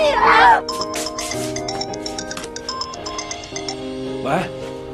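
A mobile phone ringtone plays a repeating electronic melody of bright chiming tones for several seconds, with a brief voice at the start and another near the end.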